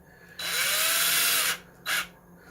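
A power drill runs a screw in for about a second on an Axial SMT10 Grave Digger RC truck, then gives one short second burst. The whine is close, loud and high-pitched.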